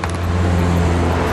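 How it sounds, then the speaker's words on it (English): Cars driving in the Metal Gear Solid 2: Sons of Liberty video game give a steady, loud engine and traffic rumble with a constant low drone that fills the whole moment. "Look at all those cars."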